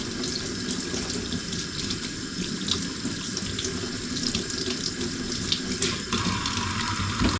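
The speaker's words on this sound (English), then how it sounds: "so I just wash it and I go over it again with the sandpaper to clean everything up" A Damascus steel hunting knife blade is washed under a running tap, a steady close rush of water splashing into a sink with small clinks, and no one speaking.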